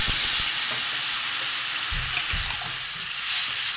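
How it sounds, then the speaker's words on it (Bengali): Vegetarian vegetable curry frying in a pan as water is poured in, producing a loud, close, continuous sizzle with a few low stirring bumps partway through. "এতে আমি জল দিয়ে দেবো।"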